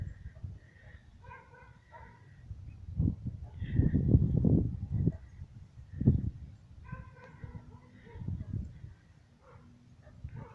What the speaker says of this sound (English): Dog barking in the distance there.